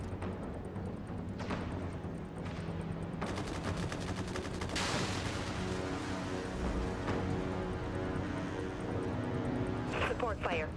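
Support-fire artillery barrage in a sci-fi combat video game, dense rapid volleys and blasts hammering continuously, loud and close, with voices talking over them.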